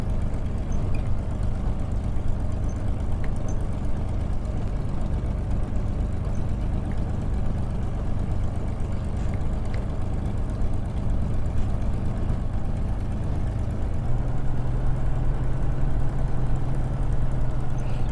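Spitfire engine idling in a flight simulator, a steady low droning rumble that holds evenly throughout with a slight rise in tone near the end, no talking.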